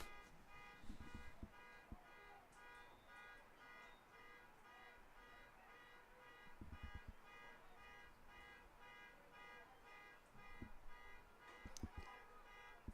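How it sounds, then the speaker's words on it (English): A car alarm sounds in the distance at an outdoor men's college lacrosse game, a faint, steady, repeating electronic tone under occasional sharp stick and ball knocks. "Looks like someone's car alarm going off."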